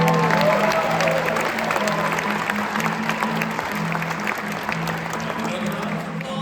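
Audience applause fills a theatre during an amateur staging of Gilbert and Sullivan's HMS Pinafore, steady and close throughout, with a sustained low musical drone or chord running underneath.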